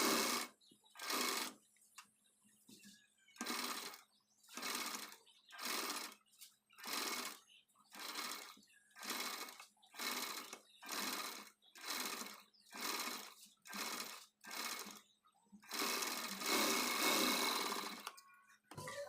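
A sewing machine stitches a puff blouse sleeve, running in short, even bursts of rapid whirring stitches separated by brief stops. The sound stays close and fairly quiet, with one longer continuous run near the end.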